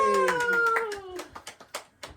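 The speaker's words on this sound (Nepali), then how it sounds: "ताली" Scattered hand claps, a handful of sharp irregular smacks, follow a sung birthday song at a family birthday gathering. The singing fades out before the claps, which stay close and moderately loud.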